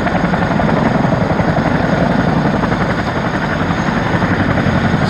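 British Army helicopter up close, a loud continuous rotor thump and turbine whine at steady intensity throughout, no voices heard.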